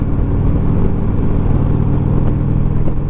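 A 2023 Indian RoadMaster Dark Horse motorcycle's engine drones steadily and loudly while riding, a continuous deep rumble with no voices.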